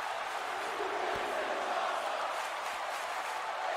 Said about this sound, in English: The crowd letting these competitors know that this is awesome